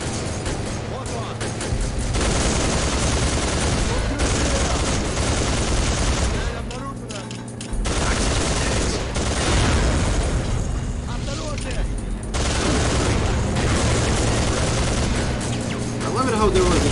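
A mounted turret machine gun fires in Soldier of Fortune 2, a loud, dense, continuous hammering of gunfire broken by a few short pauses, with explosions mixed in.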